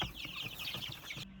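Young chickens, teenagers and toddlers, cluck and chirp constantly from their coops inside a cabin, a busy, soft chatter of many birds close by.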